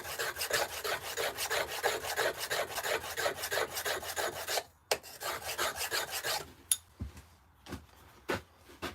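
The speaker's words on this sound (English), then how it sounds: "Sharpen that chisel up again." A stone-carving chisel is sharpened with steady, rhythmic rasping strokes, loud and close, then a brief pause and a few scattered scrapes and taps.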